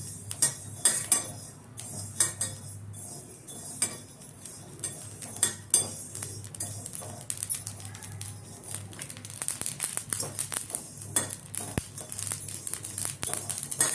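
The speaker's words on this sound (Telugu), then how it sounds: "చిట్పట్ చిట్పట్ సౌండ్ వస్తున్నాయి చూడండి ఆవాలు ముందుగా అయిపోతాయి" Mustard seeds crackle and pop in a hot pan, quick irregular ticks and snaps scattered over a low background hum, with occasional clinks of metal.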